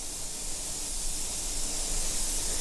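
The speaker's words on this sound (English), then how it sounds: "And now I'm ready to spray pearl black." A steady, hissing spray gun sprays pearl black paint on a custom paint job, an even airy whoosh holding at a constant level from start to finish.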